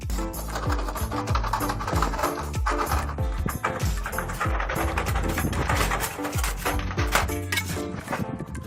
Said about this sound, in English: cutting metal is not an easy task